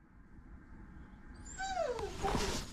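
Restless huskies eager for a walk let out a rising, wavering whimper that swells over a soft background rumble, growing louder toward the end.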